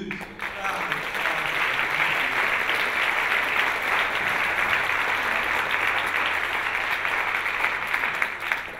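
A large audience at an arts conference closing plenary session breaks into sustained applause, a dense, loud, even wash of clapping that holds steady for several seconds.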